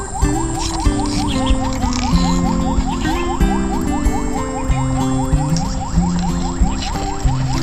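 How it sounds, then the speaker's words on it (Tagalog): An ambulance siren wails in a rapid, repeating rising sweep, loud and steady against busy background noise and other tonal sounds. "Ambulansya pa."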